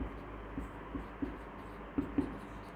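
Chalk taps and scratches on a board as a teacher writes during a Hindi-language physics lecture on electric charge, faint intermittent clicks and strokes in a quiet room.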